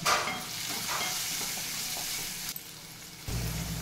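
Potatoes and green beans fry in a pan with salt, giving a loud continuous sizzle with stirring scrapes, close up, before the hiss briefly drops away near the end.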